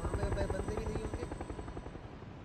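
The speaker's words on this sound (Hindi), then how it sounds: "कहाँ से हेलीकॉप्टर जा रहा है देखो" A helicopter flies overhead in the video game PUBG, a steady rhythmic rotor thump that is loud and close throughout, with speech faintly present underneath.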